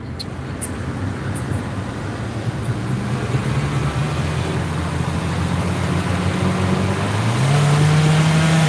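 A nearby car's engine rumbles and revs beside the vehicle in traffic, rising in pitch toward the end, with road noise underneath.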